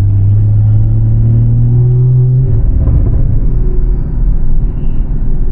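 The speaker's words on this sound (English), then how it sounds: "That turbo." A car engine with a turbo builds under acceleration, a loud close rumble with a rising tonal hum that cuts off and gives way to rougher engine noise, muffled as if heard from inside the car.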